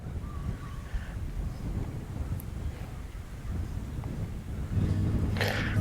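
Steady wind buffets the microphone with a low, rumbling roar that swells louder near the end, no voices present, on the Irpin river while perch fishing.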